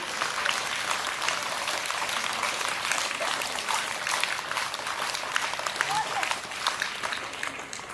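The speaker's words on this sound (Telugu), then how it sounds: "సార్ని చప్పట్లతో ఆహ్వానిద్దాం" Audience at a high school Sankranti celebration clapping steadily to welcome a teacher to the stage, a sustained wash of dense applause with a voice speaking faintly underneath.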